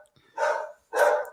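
A dog gives two loud, close barks separated by a short pause, with no talk around them.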